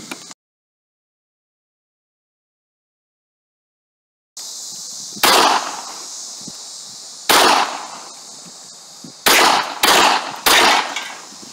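Gunshots fired at old hard drives outdoors, first pistol rounds then a bigger round: after a silent stretch, six loud sharp cracks ring out at irregular intervals, each followed by a short echoing decay over steady background hiss.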